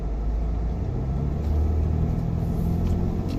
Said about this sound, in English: here comes the car up around the crest